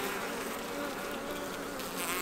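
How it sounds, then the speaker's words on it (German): A male honeybee drone at a hobby beekeeper's hive gives a continuous, close, steady droning buzz with no voices over it. "Das ist eine männliche Biene hier, ja, sieht man ganz deutlich."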